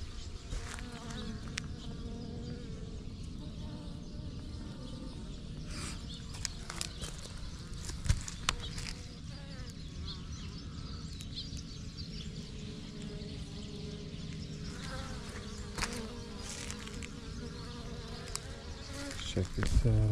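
Steady, dense buzzing of many bees at an almond orchard fills the whole stretch, close and continuous, with a few brief louder knocks and rustles.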